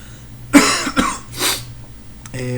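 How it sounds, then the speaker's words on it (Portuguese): Two or three harsh coughs come in quick succession from someone close by, followed by a softer throat-clearing breath, with quiet room tone around them. "Vocês desculpem essa tosse minha aqui"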